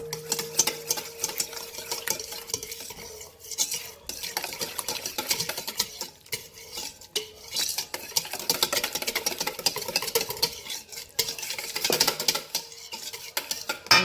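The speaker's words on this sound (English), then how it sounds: "I've got one 15-ounce can of pumpkin, 3 large eggs, and 1 teaspoon of vanilla extract. Okay, I'm going to give this a mix" Canned pumpkin, eggs and vanilla extract being whisked together in a bowl, a steady stream of quick clinking and scraping strokes against the bowl's sides, close and busy throughout.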